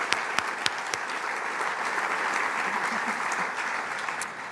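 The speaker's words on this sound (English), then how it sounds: "Let's give them all a round of applause" Guests at a philanthropy anniversary celebration give a steady round of applause, a dense wash of many hands clapping at moderate distance, with a few sharper nearby claps standing out early.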